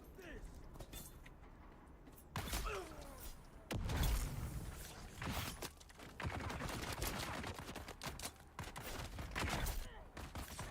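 Gunfire and bursts of shots from an enemy gunner in Dune Awakening, moderately loud, repeating in clusters amid game noise, with someone talking over it.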